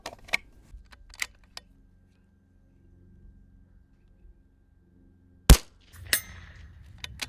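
Rimfire rifle shots fired at a 200-yard target in precision rifle training, heard as sharp isolated cracks, one loud close report and a few fainter ones, spread out with quiet gaps between them.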